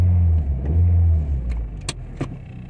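A car's engine cranks and catches, settling into a low steady idle while a few sharp clicks and clunks sound nearby, close and moderately loud with no talking.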